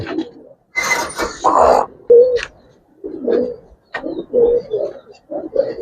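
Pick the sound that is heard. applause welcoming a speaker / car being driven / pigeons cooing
pigeons cooing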